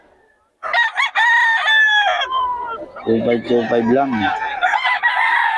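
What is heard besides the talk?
roosters crowing and clucking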